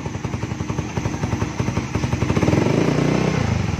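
A fuel-injected Suzuki Raider 150 Fi motorcycle idles with a steady, pulsing, throbbing beat, then its engine is revved up, the pitch climbing and the note growing louder and smoother toward the end.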